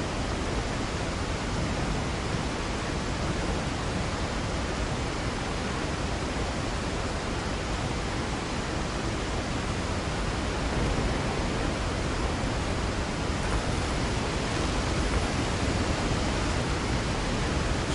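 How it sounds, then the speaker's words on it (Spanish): Steady roaring rush of a waterfall in Resident Evil 4 HD on PS4, loud, dense and unbroken for the whole stretch, as if standing right beneath the falling water, with no talking. "Y se oye la cascada como si estuviera debajo de ella."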